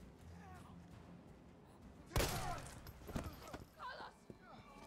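A gunshot in the Resident Evil 3 video game, one loud sharp blast followed by a couple of fainter thuds and game sounds, with talk around it.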